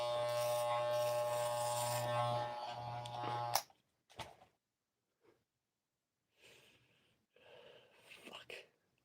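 An electric razor buzzes loudly and steadily for a few seconds while shaving, then cuts off, followed by sharp gasps and heavy breathing.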